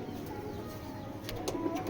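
Foreign racing pigeons coo softly at a breeding farm, a low, steady murmur of overlapping calls behind faint background hiss, with no one speaking.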